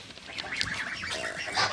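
Domestic fowl such as ducks and geese give a busy chorus of close honks and quacks while being fed fish in water, the calls overlapping continuously.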